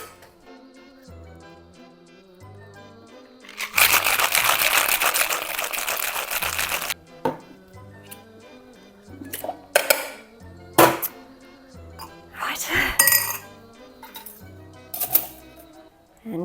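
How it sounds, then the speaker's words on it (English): A cocktail shaker with its lid on, holding a melon-scented Halloween drink, is shaken hard for about three seconds in a dense rattling burst, followed by scattered clinks and knocks of bar tools over quiet background music. "Okay, shaker lids on and let's shake."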